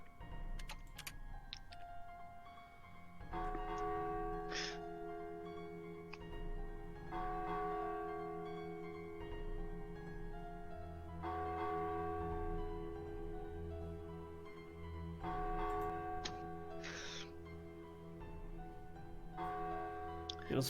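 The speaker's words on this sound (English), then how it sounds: "you hear the chiming of the bell" A chiming bell sound effect played during a tabletop Dungeons & Dragons session, ringing out in several separate sustained tones that decay slowly over a quiet background.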